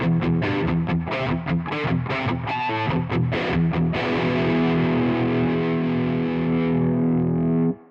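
A Kuassa Efektor distortion pedal emulation drives a guitar with a thick, saturated tone, fast chugging chords giving way to a held chord that rings out and cuts off.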